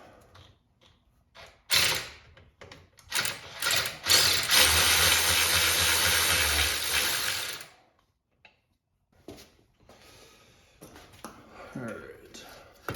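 A ratchet wrench backs out a bolt on a Polaris 3-wheeler during a teardown, giving a few seconds of quick, close mechanical clicking and whirring between short bursts of handling noise and quiet gaps.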